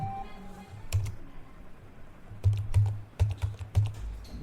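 Keys clack on a computer keyboard in short bursts, a few isolated taps followed by a quicker run of close, crisp clicks at a desk.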